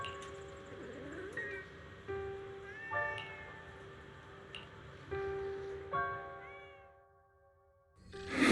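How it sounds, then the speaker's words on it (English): A cat meows in the video game Zenless Zone Zero, a few short mews amid ringing game tones and soft ambience, fading toward near silence before a rising noise at the end. "Oh, there's a cat over there."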